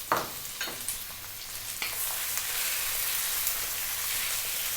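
Chicken breast sautéing in a pan for a Filipino chicken sotanghon guisado, a steady close sizzle with scattered crackles and a few stirring scrapes, with no talking.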